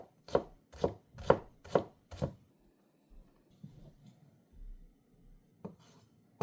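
A kitchen knife, a budget Indonesian blade, chops on a wooden cutting board: five crisp, evenly spaced knocks close up, then a few softer scattered taps and scrapes.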